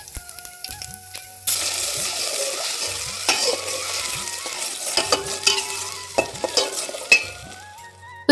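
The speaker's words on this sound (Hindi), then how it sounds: "उसमें हमने जीरा हींग डाल दिया।" Cumin seeds and asafoetida hit hot oil and sizzle, a bright crackling hiss that starts abruptly and keeps going with stirring scrapes and small clinks against the pan, close and fairly loud, with faint low tones beneath.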